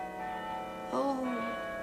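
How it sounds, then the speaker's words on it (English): Soft, melodic chimes ring with sustained tones, faint and somewhat distant, heard alone in a quiet indoor setting. "Oh, those lovely, lovely chimes."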